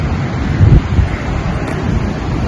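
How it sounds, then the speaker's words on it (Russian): Stormy ocean surf rolling in during cold, rough weather, a loud continuous rush of waves mixed with heavy wind buffeting the microphone, with no voices. "Бушует прям океан."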